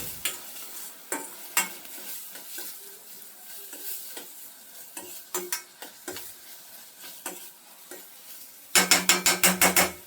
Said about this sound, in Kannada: ಅದು ಸ್ವಲ್ಪ ಚೆನ್ನಾಗಿ ಎಣ್ಣೆಯಲ್ಲಿ ಫ್ರೈ ಆಗಬೇಕು.